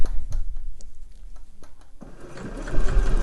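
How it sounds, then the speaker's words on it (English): Sewing machine stitching fabric binding around handmade slipper boots, a close mechanical whirr in short bursts with brief pauses, then a steadier, louder run toward the end. "So you've now got that binding stitched all the way round."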